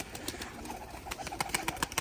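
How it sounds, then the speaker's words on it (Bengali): Many pigeons on a farm murmur quietly while feeding, faint low coos mixed with soft pecking clicks and rustling that grow a little busier toward the end. "কবুতরগুলো খাচ্ছে দেখতে পাচ্ছেন।"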